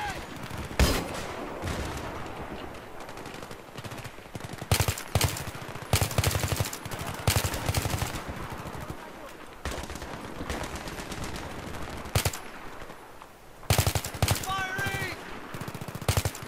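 Automatic gunfire from the video game Battlefield 3 rips out in repeated loud bursts with short pauses between them, and a voice talks in places under the shooting.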